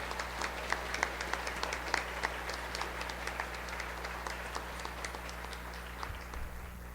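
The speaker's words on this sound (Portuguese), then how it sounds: "Vamos acolhê-lo então com uma salva de palmas nessa manhã" Faint, distant applause from a church retreat congregation, a steady patter of clapping over a low hum, continuing evenly throughout.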